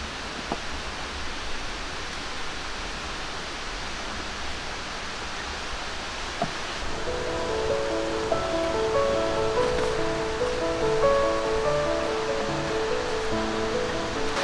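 Ciliwung River in Katulampa, Bogor flowing steadily, a broad continuous rush of water with a faint rhythmic chatter and ticking that grows slightly louder and busier partway through.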